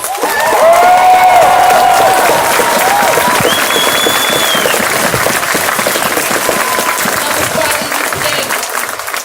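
A large crowd at a protest applauds loudly and continuously, with cheers and whistles rising over the clapping throughout.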